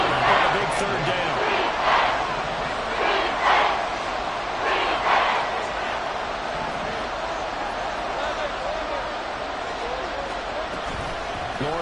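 A stadium crowd roars steadily through an American football video game broadcast as a big third down approaches, with swells of cheering beneath commentator talk.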